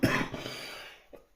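A single person recovering from a flu bug coughs once, close and fairly soft, followed by a short throat sound.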